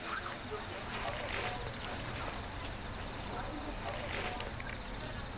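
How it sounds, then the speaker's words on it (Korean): Grass insects chirp steadily through a quiet night at a small train station, a continuous high trill running the whole time with faint people talking underneath. "아 근데 풀벌레 소리도 좋다. 너무 좋다."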